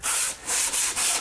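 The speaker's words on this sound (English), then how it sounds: "this is 150 grit, and I'm just going to go like this, just using my hands like a sanding block" 150-grit sandpaper is rubbed by hand across a wood surface during a kitchen remodel, giving about four close, steady scratchy strokes in a quick back-and-forth rhythm, heard alone.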